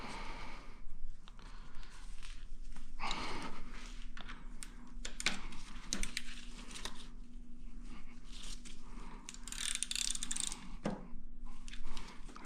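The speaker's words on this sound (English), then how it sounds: "I'll very slightly turn it backwards so that it is able to jam the gears correctly." Aprilia Tuono motorcycle engine during a rear-head valve clearance adjustment, with a gear jammer tool turned slightly backwards to lock the gears; faint metallic clicks, ratcheting and small rattles sound close up in a quiet workshop.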